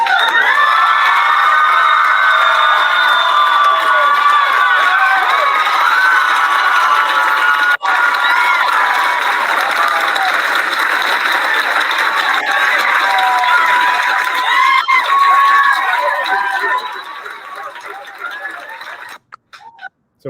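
A council meeting crowd cheers and shouts loudly after a mask mandate is voted down, a sustained roar of voices and whoops that holds steady before tapering off near the end.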